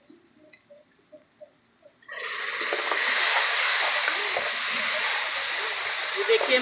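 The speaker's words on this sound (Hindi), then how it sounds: "हल्का सा पानी का छींटा ऐड करेंगे इसके अंदर।" Water splashed into dal masala frying in a pan for Pakistani white urad dal mash, setting off a sudden loud sizzle that stays steady to the end after a quieter start of faint tapping.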